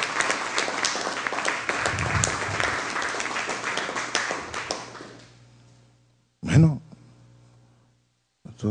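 Applause from an audience saluting farmers and workers, a dense broadband clatter of clapping for about five seconds that fades out, followed by a voice speaking briefly.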